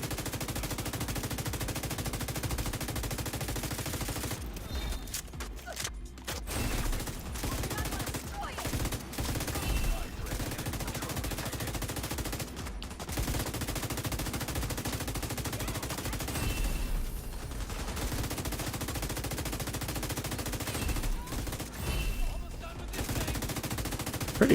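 Sustained turret gunfire in The Division 2, a dense, nearly continuous rattle of shots lasting many seconds with a few brief gaps and a faint voice underneath.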